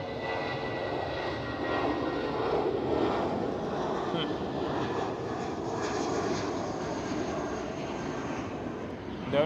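An airliner departs Schiphol airport, its engines giving a broad, steady roar that swells and holds at moderate distance while a voice talks over it.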